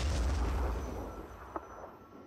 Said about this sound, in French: C'est surtout le canon.